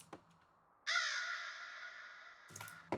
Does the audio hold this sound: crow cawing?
yes